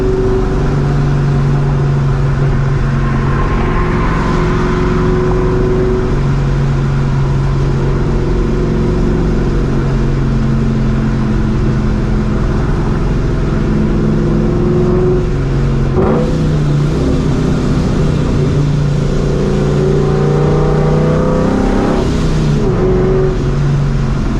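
A loud supercharged Ford Mustang GT (New Edge) engine drones and revs continuously, its roar booming and reverberating inside a highway tunnel in Texas, with no talking.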